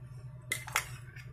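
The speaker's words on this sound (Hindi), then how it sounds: "और अब ये बाउल में हम यहाँ 2 बड़े चम्मच दही डाल देंगे" A metal spoon adding yogurt into a bowl, two quick faint clinks of the spoon against the dish, followed by a softer tap, with a low hum underneath.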